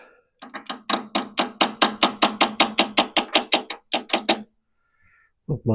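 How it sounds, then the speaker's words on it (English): A run of about twenty sharp, evenly spaced hammer taps on a hard part of an old Volkswagen Super Beetle, steady and close, pausing briefly before a few more and a short voice at the end. "I'll give it a little love tap"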